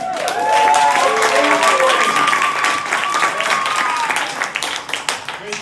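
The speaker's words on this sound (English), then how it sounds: "I've never had such applause before." An improv class audience claps and cheers in a lively burst of applause, with a few voices calling out over the clapping before it tapers off toward the end.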